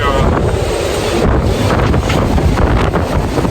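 Strong gusts of wind buffet a catamaran moored in a marina in Liguria, a steady loud roar with surging gusts across the whole clip and no voices over it.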